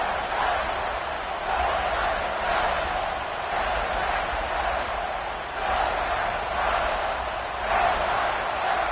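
A home crowd roars continuously at a college football game, a broad, distant wash of cheering that swells and dips over several seconds, with faint whistles near the end.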